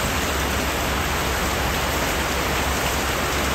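Heavy monsoon rain pours on a bungalow, a loud, continuous hiss of falling water filling every moment, steady and unbroken, with no voices.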